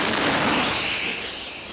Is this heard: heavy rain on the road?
no